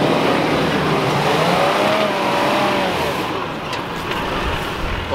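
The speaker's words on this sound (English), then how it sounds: "listening to the mighty V8 in Keith's rig" A V8 four-wheel-drive rig revs hard as it crawls up a steep off-road track, a loud, steady engine roar with rising and falling pitch that lasts throughout and eases slightly near the end.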